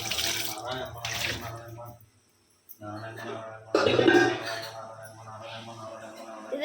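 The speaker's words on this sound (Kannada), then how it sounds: "ಇದಕ್ಕೆ ಸ್ವಲ್ಪ ನೀರು ಹಾಕ್ಬಿಟ್ಟು ತೊಳೆ." Water poured over food to wash it in a Kannada home kitchen, a steady splashing run that pauses briefly midway and returns louder, with a voice speaking over it.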